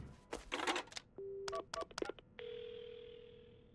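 A telephone in the video game Paranormasight is handled and dialed: a few clicks and rustles, then short dialing beeps, and finally a steady dial tone that holds to the end. It stays quiet throughout.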